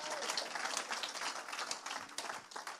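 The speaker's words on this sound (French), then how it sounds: "est-ce qu'on peut lui donner des acclamations" Church congregation applauding and cheering at a French-language worship service, a dense steady wash of clapping and voices filling the room throughout.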